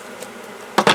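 Honey bees at a hive, a close buzzing drone with a couple of louder passes as individual bees fly near, no voices.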